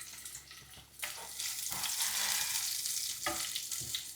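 Ginger and garlic hit hot oil in a pan and are stirred, giving a loud bright sizzle that swells after a second and keeps going, with scraping utensil strokes near the end and no talking.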